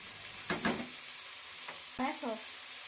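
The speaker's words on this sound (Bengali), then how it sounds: "এখন আমি ভালোভাবে নেড়ে দিব" Chicken pieces fry in a pan with a low, steady sizzle. A spatula stirs them in a few distinct scraping strokes, two close together early on and another pair near the end, with no talking.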